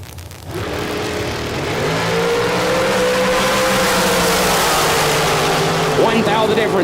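Drag racing cars at a Texas Motorplex bracket race launch and accelerate hard down the strip, a loud sustained engine roar with rising harmonic pitch that stays strong throughout, while an announcer talks over it.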